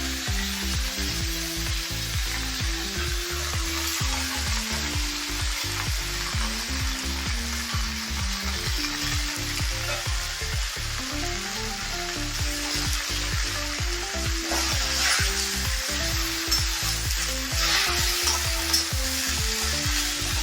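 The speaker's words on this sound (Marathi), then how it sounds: "आता मटकीची डाळ टाकूया." Moth bean dal sizzles steadily in a pan with fenugreek leaf bhaji, a continuous loud frying hiss with occasional stirring scrapes, and a low musical tone runs underneath throughout.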